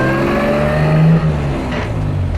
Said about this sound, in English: The engine runs very well,